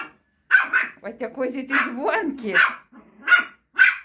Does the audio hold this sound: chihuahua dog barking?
yes